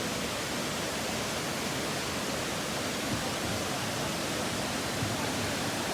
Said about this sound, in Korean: 저는 폭포도 좋았지만 무엇보다 물소리와 상쾌한 공기가 정말 좋았답니다.